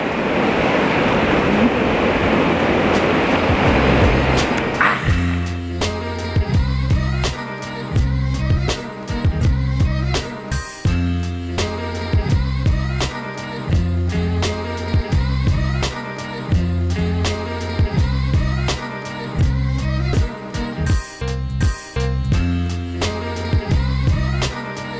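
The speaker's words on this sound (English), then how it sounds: "sit next to the river, just listen to it flow by" A river flowing beside the Kancamagus Highway in New Hampshire gives a loud, steady rushing wash for about five seconds. Rhythmic music then takes over and the water drops back beneath it.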